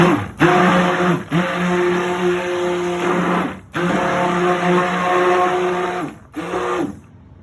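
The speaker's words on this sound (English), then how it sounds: "Burp our stick blender here." A handheld stick blender whirs through coconut milk and coffee soap batter in steady motor bursts, cutting out briefly between runs, loud and close with a humming drone.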